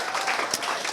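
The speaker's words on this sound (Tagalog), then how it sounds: "Palakpak po naman kayo kung tinatanggap natin sila." A church congregation applauds at Marikina Foursquare Gospel Church, a dense, steady wash of many hands clapping at moderate loudness and fairly close.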